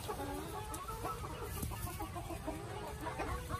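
Silky chicken hens in a backyard flock cluck softly and intermittently, faint, low, repeated clucks against a steady outdoor background with no talking.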